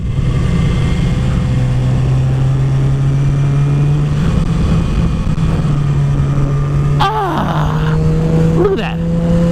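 A motorcycle engine hums loud and steady as the rider leans knee-out into a corner, with a couple of quick rising revs near the end and a voice talking over it.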